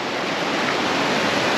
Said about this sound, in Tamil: பாரு தண்ணியோட ஃபோர்ஸ் எப்படி வருது பாரு.